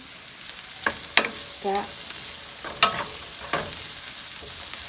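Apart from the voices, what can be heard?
onions and peppers frying, being stirred and flipped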